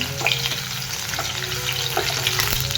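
Crushed garlic and cumin seeds fry in hot oil for a Maharashtrian tempering, a continuous close sizzle with light crackles and occasional stirring scrapes throughout.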